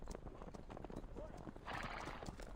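Horse hooves clip-clop steadily with a whinny in the Reverse: 1999 video game, set under continuous voices and background game sound.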